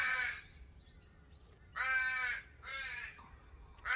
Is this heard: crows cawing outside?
yes